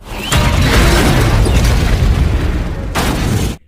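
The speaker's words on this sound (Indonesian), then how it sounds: "mobil yang Sarah lajukan pun datang dan ledakan pun terjadi" A loud, booming car explosion from the film Geostorm erupts with a deep rumbling blast that sustains for a few seconds, followed by a second burst before cutting off abruptly.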